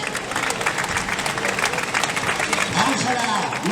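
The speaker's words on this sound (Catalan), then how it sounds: "un fuerte aplaudiment" Crowd applause and cheering at the finish of an 8K trail race as the first woman crosses the line, steady and dense throughout with a commentator talking over it.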